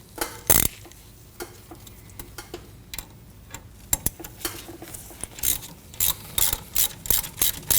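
A ratchet loosens the 8 mm ABS wheel speed sensor bolt on the rear wheel hub of a 2015-2022 Chevrolet Colorado, giving sparse metallic clicks that become a quicker run of close ratcheting ticks toward the end, with no talk.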